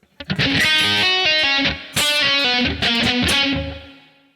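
A distorted electric guitar plays sections of a piece back to back, a loud, close run of fast picked notes and short bursts that rings out and fades at the end, with no voices.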